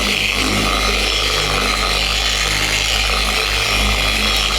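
A polisher running at slow speed to spread polish over sun-damaged paint on an old farm truck, a loud steady motor whir with the pad rubbing the panel, constant and close.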